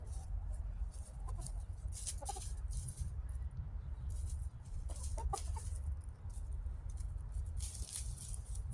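Backyard chickens cluck and peck close by on the ground near someone's feet, with soft scattered clucks and scratching over a low outdoor rumble and no talk.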